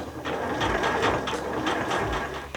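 A sewing machine stitching a reverse appliqué heart cushion cover, running in a steady rapid mechanical whir with even rhythmic pulses, close and continuous.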